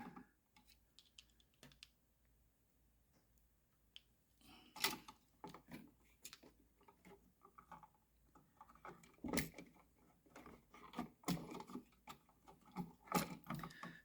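A screwdriver tightening a terminal screw on a smart switch for a 3-way setup, with sporadic close clicks and ratcheting scrapes that grow busier and louder toward the end, no voices.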